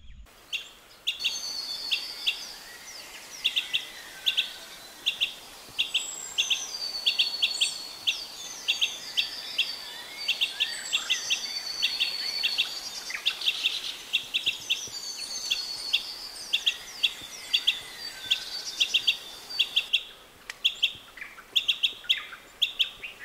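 A pair of chestnut bee-eaters calls outdoors, with repeated short, high chirps and trills scattered across the whole stretch at moderate distance over a soft background hiss.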